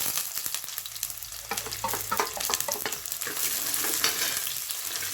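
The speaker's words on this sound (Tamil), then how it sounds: "வெங்காயம் போட்டுட்டு நல்லா வதக்குவோம்" About fifteen chopped small onions sautéing in a pan for a fish curry, a steady close sizzle and crackle with occasional stirring scrapes.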